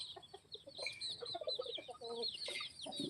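Country chickens on a poultry farm cluck and chatter in short, overlapping calls, some close and some a little farther off, gathering together in a lively, irregular stream.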